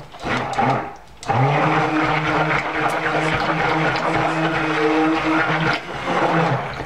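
A blender whirs steadily and loudly through cold process soap batter for pumpkin crunch soap, with a brief pause near the start and then a sustained droning run.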